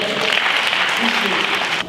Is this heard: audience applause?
yes